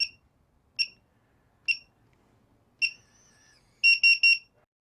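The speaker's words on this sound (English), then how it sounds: "Notice that the beeping is back on again." A keyless RV lock keypad gives short electronic beeps, four single chirps spaced apart, then a quick triple beep at the end, clear against near silence.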